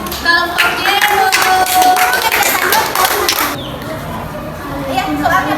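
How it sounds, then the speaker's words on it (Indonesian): Classroom children clapping for group Jero, a short burst of mixed hand claps with lively chatter and voices throughout, the clapping fading after a few seconds while talk continues. "tepuk tangan buat kelompok Jero"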